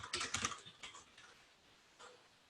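Typing on a computer keyboard to enter a server address: a quick cluster of close, crisp key clicks, then a few sparse taps and one last keystroke after a pause.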